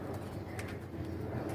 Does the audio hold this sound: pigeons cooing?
yes